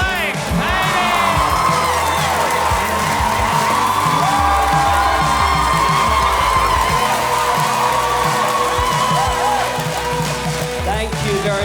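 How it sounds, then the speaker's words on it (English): A comedy-show audience in Brisbane claps and cheers loudly and continuously as a comedian is welcomed onto the stage, with whoops rising over the dense applause. "clap your hands together and welcome to the stage, Blake Pavey"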